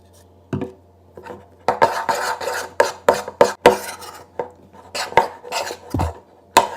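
Butter slime being stirred with baking soda and contact solution, a series of scraping, rasping strokes of a utensil against a bowl in an irregular rhythm, close and clear with no talking.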